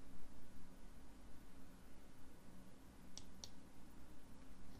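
A computer mouse gives two quick, faint clicks close together while a spreadsheet is being renamed in Excel, over a quiet background hiss.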